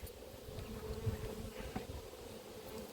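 Honeybees buzzing around a hive at an apiary, a soft continuous drone with individual bees passing near and away, faint and steady without voices.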